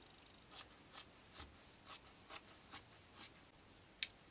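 Scissors snip through fabric around the armhole of a recycled garment, about nine crisp, evenly spaced cuts close up in a quiet room, the last one sharper and louder.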